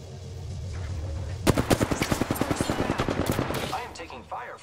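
Rapid automatic gunfire bursts out in the Apex Legends video game, a loud rattling string of shots lasting a few seconds after a quieter lead-in, with game voice lines around it.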